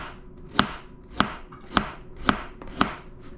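Carrots being chopped with a knife on a cutting board, five crisp, evenly spaced thuds close up, with no talk.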